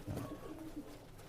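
Pakistani teddy pigeons in a loft let out a quick, faint, throaty coo, short and close, with no voices.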